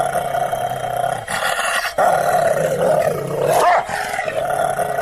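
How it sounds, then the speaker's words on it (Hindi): A pet dog named Sheru barking and growling loudly and persistently at a woman at the door, harsh roaring vocalizations close by over a continuous dramatic background. "शेरू उसे देखकर बहुत जोर जोर से भौंकने लगा।"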